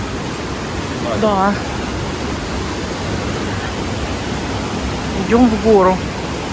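Icy mountain river in the Pyrenees, fed straight from the peaks, rushing as a steady, full broadband roar from start to finish, with a person speaking briefly over it.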